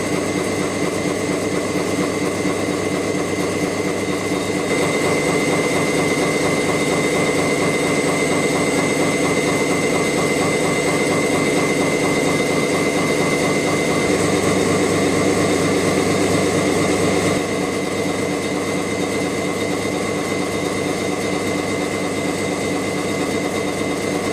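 A gear hobbing machine cutting a gear blank with a hob cutter, a steady loud mechanical whine and drone with a constant tonal hum throughout, no talk.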